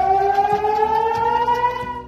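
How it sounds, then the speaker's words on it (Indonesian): A civil defense air raid siren sounding in central Israel near Tel Aviv, a loud, steady wailing tone that holds and slowly rises in pitch, carrying alone without voices for the full two seconds. "sirine dilaporkan berbunyi amat keras di seluruh wilayah Israel Tengah, termasuk ibu kota Tel Aviv"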